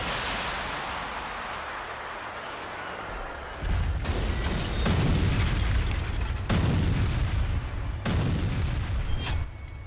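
Heavy booms and blasts from war footage of the Israel–Iran conflict: a constant rumbling roar with several loud, deep bursts arriving a few seconds apart, and no voices.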